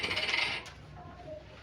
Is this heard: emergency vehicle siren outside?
no